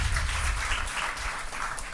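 A church congregation claps together in praise of God, a dense burst of applause that is close and loud and holds steady for about two seconds.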